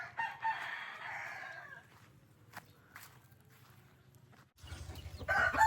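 Chickens cluck and a rooster crows on a small farm that also keeps goslings and ducklings, with footsteps moving about between calls and a loud crow near the end.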